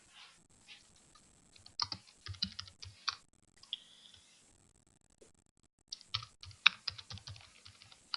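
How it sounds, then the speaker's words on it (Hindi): Typing on a computer keyboard during a website editing session: bursts of quick, light key clicks close by, broken by short pauses, with no voices. "मैंने यहां पर कुछ टाइप कर दिया"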